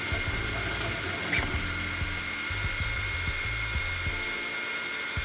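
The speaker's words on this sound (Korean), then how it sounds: "지금 첫 번째 컬러인 검정색의 바닥을 지금 출력하고 있습니다" 3D printer laying down its first black layer, a steady mechanical whir with stepper motor tones shifting in short rhythmic bursts, close and continuous with no talking.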